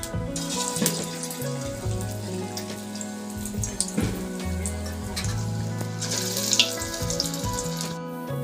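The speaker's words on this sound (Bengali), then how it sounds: "কারণ এটা ছাঁকা তেলেই ভাজা হবে।" Banana flower pakoras deep-frying in hot oil, a bubbling, crackling sizzle with scattered pops, heard close under some clinking kitchen sounds.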